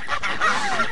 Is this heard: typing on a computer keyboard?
no